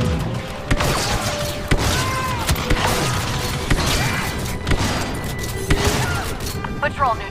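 Repeated gunfire in the Star Wars Battlefront 2 campaign crackles in sharp, loud bursts over several seconds, mixed with battle noise and voices talking over it.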